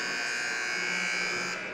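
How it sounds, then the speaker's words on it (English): Warning buzzer before a women's college basketball game between St. Mary of the Woods and WVU Tech, a steady, unbroken electronic buzz that holds for almost two seconds and fades slightly at the end. "There's the warning buzzer"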